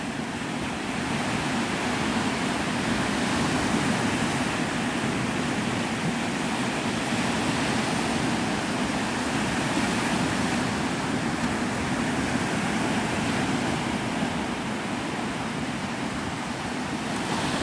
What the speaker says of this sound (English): Can you guys hear the water really well?